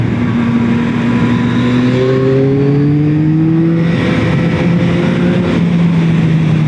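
Yamaha XSR 900 motorcycle engine revving hard and accelerating up through the gears, a loud close roar with rising tones, heard alone.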